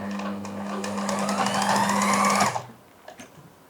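A sewing machine stitching piping onto fabric runs in one continuous, close, loud burst of rapid mechanical whirring, then stops abruptly, leaving a few soft handling clicks afterward.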